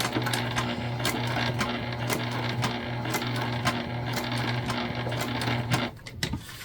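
Sewing machine stitching a candy bag, pivoting to sew across, with a steady close motor hum and rapid rhythmic needle ticking running throughout, ending in a few clunks.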